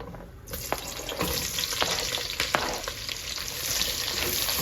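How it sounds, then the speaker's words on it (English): Onions hit hot oil and sizzle loudly, a steady close frying hiss with a few crackles and a stir, no talking. "Now I'm gonna add the onions."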